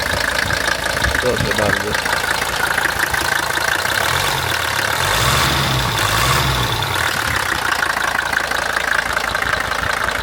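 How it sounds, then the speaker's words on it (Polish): A 1981 Mercedes 300D diesel taxi with about a million kilometres idles nearby, a steady rattling knock throughout, while people talk over it. "naprawdę zarąbiście brzmi ten silnik"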